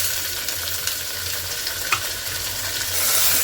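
Tomatoes tipped into a pan of frying masala make a steady low sizzle with a brief clatter near the middle, and the frying swells louder toward the end.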